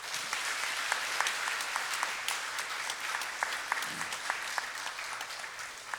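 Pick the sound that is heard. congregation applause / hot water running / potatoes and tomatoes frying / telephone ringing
congregation applause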